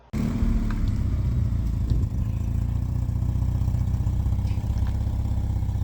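A Porsche 944 sports car engine idles steadily after starting, a close, continuous low rumble with light mechanical clatter and no talking.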